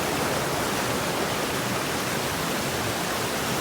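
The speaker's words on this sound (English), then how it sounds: "the little waterfalls." Small mountain waterfalls and streams in the Blindtal valley of southern Switzerland pour in a constant, even rushing hiss, steady and alone without any talk.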